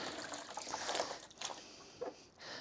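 Running water rinses a hand-dyed top in hot water, a soft, uneven splashing and trickling, close but faint and without speech.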